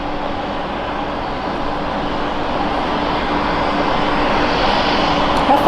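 Jetstar airliner taking off at Brisbane Airport, a steady broadband engine roar that builds slightly in loudness over several seconds with a faint tonal whine underneath, heard from a distance without talk.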